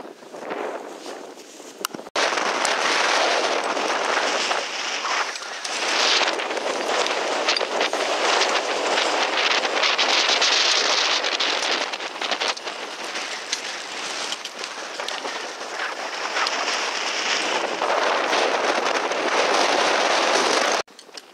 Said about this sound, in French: on vient de passer toute cette partie où il y avait énormément de vent